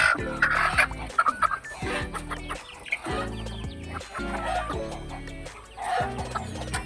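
Rhode Island Red and native chickens clucking and calling close by in a steady, busy flock chorus, with overlapping clucks and occasional louder squawks and no speech.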